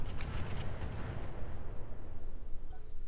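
Mech weapons fire in the Roguetech battle game, dense rumbling booms and bursts rolling continuously for about three seconds, loud and close with no voices over it.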